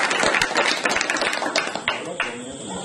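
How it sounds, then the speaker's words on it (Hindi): Applause at a crowded indoor peace-march event on World Peace Day, with dense clapping and tapping throughout and voices mixed in. "इनके लिए जोरदार तालियां"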